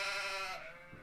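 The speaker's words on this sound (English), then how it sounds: "the haunting, echoing, bleating of sheep" Sheep bleat in misty fog, a single drawn-out, haunting and echoing cry that fades after about half a second, faint and alone.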